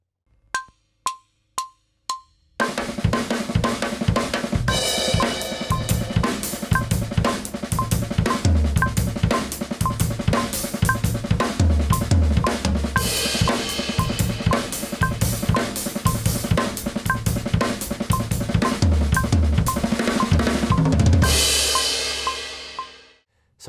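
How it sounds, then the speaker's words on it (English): Drum kit plays a fast phrase of sixteenth-note triplets with bass drum hits folded into the sticking, opening with four spaced count-in clicks, then a dense, driving groove that fades out at the end. "add a bass drum to the end of our sticking"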